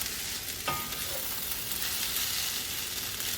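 Sausage potato hash frying in a pan while being stirred, a steady bright sizzle with a brief scrape of the spoon early on, close and continuous.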